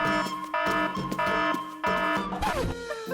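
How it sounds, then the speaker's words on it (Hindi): A cartoon alarm blares in repeated pulsing bursts, loud and close, with shifting electronic tones toward the end. "अलार्म बंद करो, मैं सो नहीं पा रहा।"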